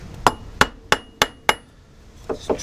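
Hammer striking a block of wood held against a Corsa C air conditioning compressor pulley, five sharp evenly spaced knocks followed by two lighter taps, close and alone.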